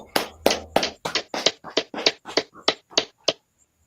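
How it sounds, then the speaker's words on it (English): About a dozen sharp, evenly spaced hand claps ring out in a steady rhythm, close and alone with no talk, ending abruptly after a few seconds. "All right, clap it up."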